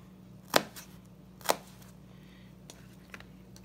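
A knife comes down on onions on a cutting board during Israeli salad prep, giving two sharp, close chops about a second apart, then a few fainter taps over a low steady hum.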